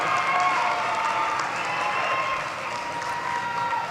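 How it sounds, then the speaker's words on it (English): A large arena crowd at the Loyola University Chicago commencement in Gentile Arena claps for the graduates, a dense, sustained wash of applause filling the space for several seconds. "give them a round of applause"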